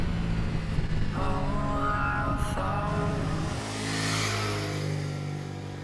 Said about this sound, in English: quick shift is nice when it's revving